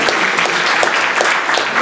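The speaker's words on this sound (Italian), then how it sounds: "facciamo un applauso" Brief burst of audience clapping at an Italian talk on reading labels and home production, a close, loud, uniform patter that holds steady for under two seconds.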